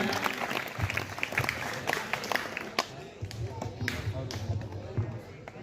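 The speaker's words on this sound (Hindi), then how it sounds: "जोरदार तालियों से स्वागत करें।" An audience at a school Gandhi Jayanti ceremony claps loudly and raggedly, with scattered sharp claps and crowd murmur throughout and talking over it.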